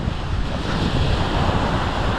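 Ocean waves slap and wash around a small fishing boat at sea, a continuous loud rushing surf mixed with heavy wind buffeting the microphone, no voices.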